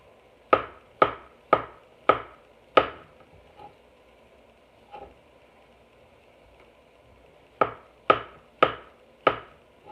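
A knife chops mushrooms on a board, giving sharp, evenly spaced strokes close by: a run of five, a few softer taps, then another run of four.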